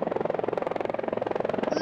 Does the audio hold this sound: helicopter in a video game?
yes